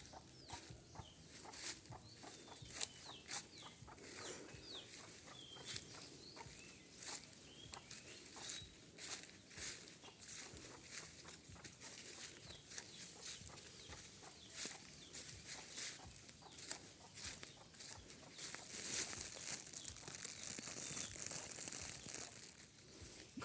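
Chickens clucking outdoors in a green rural spot: scattered short clucks at moderate distance over a constant rustle and crinkling background, fairly faint overall.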